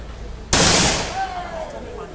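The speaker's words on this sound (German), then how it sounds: "Sehr gute Schüsse, mitten rein ins Herz." A single loud rifle shot cracks at a bird-shooting festival in Neheim, a sharp close blast followed by a fading ringing tail.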